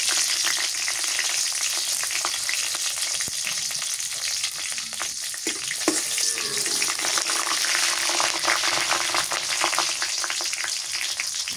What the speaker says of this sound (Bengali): দিলাম তেজপাতা দুটো গরম মশলা ছোট এলাচ লং